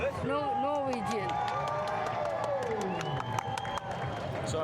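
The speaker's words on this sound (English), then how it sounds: "Clap your hands and make some noise." A crowd clapping and cheering in Times Square, New York, with shouts and whoops rising over a dense, steady roar of applause throughout, close and loud, with voices calling out amid the noise.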